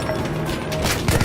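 A machine gun emplacement firing in the Battlefield 1 campaign: a dense, continuous rattle of rapid shots with booming low rumble and distant impacts, loud and steady throughout.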